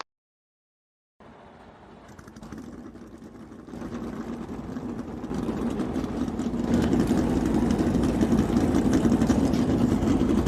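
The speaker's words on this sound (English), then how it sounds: "Gentlemen, start your engines!" Several NASCAR race car engines fire up in turn and settle into a building, overlapping idle rumble at Bristol Motor Speedway, growing steadily louder and fuller with no talk over them.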